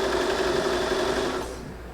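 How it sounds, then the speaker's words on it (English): A sewing machine runs steadily, stitching a quilt seam with a continuous close mechanical whir before slowing and quieting near the end. "I'm going to go ahead and start sewing"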